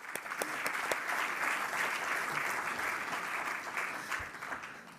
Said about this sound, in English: Applaud again from me